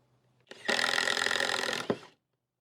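Hyper Tough brushless 20 volt impact driver running into plywood, a loud steady whirring hammer burst lasting about a second and a half, then a sharp knock as it stops, with no talk.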